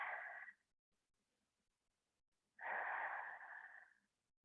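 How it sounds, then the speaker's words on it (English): Two long, deep breaths during a seated yoga twist, a brief airy exhale trailing off, a long pause of silence, then a fuller, drawn-out breath that slowly fades, close and quiet. "Breathing deeply here."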